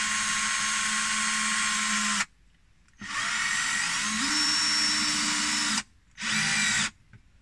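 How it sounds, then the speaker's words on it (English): A power tool, likely a drill, whines steadily during construction of a van bed frame, running in three bursts with brief silent pauses and a pitch shift partway through. "let's play with this power tool"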